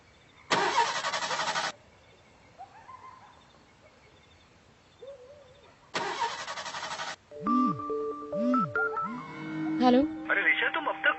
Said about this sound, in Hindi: पता नहीं अचानक गाड़ी को क्या हो गया, स्टार्ट ही नहीं हो रही।